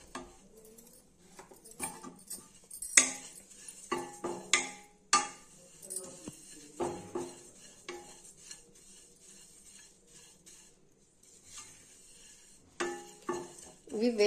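Oats being stirred and roasted in a pan over a low flame, with scattered scraping and tapping of a utensil against the metal, faint and intermittent.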